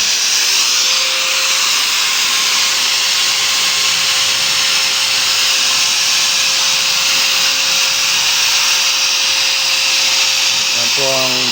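A steady high-pitched motor whine from a power grinder running on a portable solar generator continues throughout, broadband and continuous, stopping with a brief clatter near the end.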